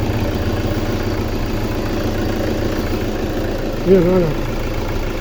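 A vehicle engine idles with a steady low hum and rumble, near and continuous, while a voice briefly speaks over it partway through.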